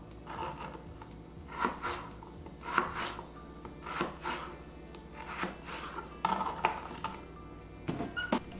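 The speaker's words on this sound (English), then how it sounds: "I slice them, and then I just cut them in little sticks" Potatoes being cut into little sticks, with soft, fairly quiet cuts and scrapes repeating about once a second in an otherwise quiet kitchen.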